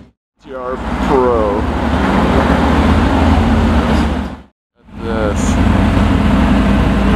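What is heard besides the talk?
Mercedes-AMG GT R Pro car driving by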